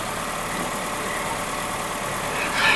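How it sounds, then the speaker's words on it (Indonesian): A Honda City GD8 runs at idle after its radiator fan motor was replaced, giving a steady, even engine hum with a broad hiss that rises slightly toward the end. "Sekarang kita coba nyalakan mesinnya."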